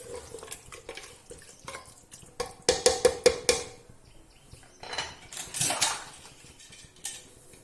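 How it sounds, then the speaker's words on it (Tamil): Metal spoon scraping and clanking against a pot while chicken biryani masala is stirred, a quick run of bright clinks in the middle and more stirring scrapes later, close and fairly loud with no talk. "இது கூட இது எல்லாத்தையும் சேர்த்து கிண்டிடுவோம்."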